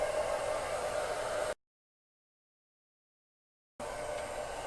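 A hair dryer fitted with a diffuser blows with a steady, close whooshing roar while drying curly wavy hair, cuts out completely for a couple of seconds, then switches back on.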